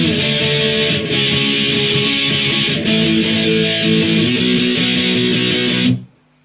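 Distorted electric guitar chugging power chords through the interlude, loud, steady and dense before cutting off abruptly near the end.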